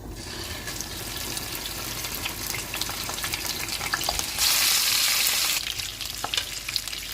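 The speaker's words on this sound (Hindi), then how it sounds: "ऑयल गर्म हो गया, इसमें चिकन डाल देंगे।" Chicken pieces sizzle and crackle in three tablespoons of hot oil in a pan for an Arabian kabsa, a loud continuous fry with stirring scrapes and a burst of stronger hissing partway through.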